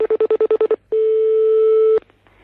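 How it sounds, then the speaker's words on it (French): A telephone line sounds a quick series of about eight short beeps, then a single long steady tone, and then it cuts off into near silence. "il est en train d'essayer de vous joindre au téléphone"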